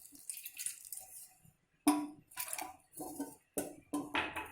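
Water is poured into a saucepan holding china rose petals, giving quiet splashing and trickling in several short bursts separated by brief pauses, close and faint, with light clinks of the pan.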